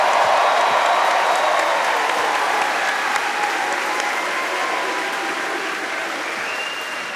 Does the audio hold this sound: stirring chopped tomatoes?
no